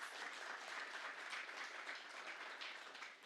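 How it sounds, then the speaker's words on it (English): An audience at an inaugural event breaks into steady, continuous applause, heard faint and slightly distant as a dense wash of many clapping hands that fades a little at the end. "give them a round of applause"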